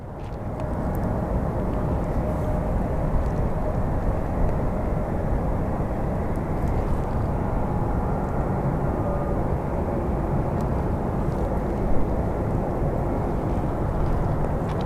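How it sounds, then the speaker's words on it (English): A Spirit Airlines airliner taxiing to its gate at Phoenix Sky Harbor airport, giving off a steady, loud, low engine rumble and roar that holds evenly for the whole stretch, with no voices over it. "our other Spirit plane is actually going to its gate"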